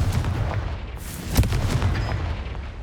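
The Confringo fire spell bursts in the wizarding game Hogwarts Legacy, booming explosive blasts over a constant rumbling background, with one sharp, loud crack in the middle.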